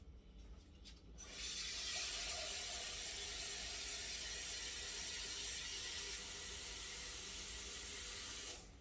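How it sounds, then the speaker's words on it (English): Water pours steadily into a pot of pink-eye beans with ham hocks, a continuous rushing splash lasting several seconds before stopping. "And pour my water in."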